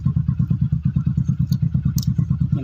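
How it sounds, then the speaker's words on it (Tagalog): A motorcycle engine runs steadily to power an inverter as a makeshift generator, its close, loud idle thumping in an even rapid rhythm throughout. "kapag tuloy-tuloy yung anda ng motor"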